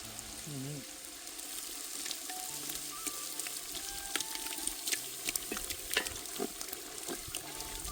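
Spinach dal is added to sizzling gravy and stirred, giving a continuous moderate sizzle with scattered spoon clicks and scraping against the pot.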